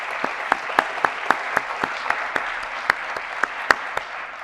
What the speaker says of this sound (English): So I also think that she deserves a round of applause.